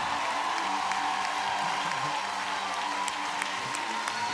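Studio audience applause on The Voice Afrique Francophone, a steady dense wash of clapping and crowd noise held at an even level throughout, with a sustained musical tone running underneath.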